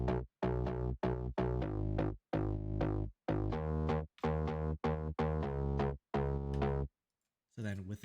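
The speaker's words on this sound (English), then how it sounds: "And then I had like a bass guitar as well" Bass guitar line in a remix beat, a run of sustained, harmonically rich notes with short choppy breaks between phrases, close and fairly quiet, ending in a brief pause before a faint noisy tail.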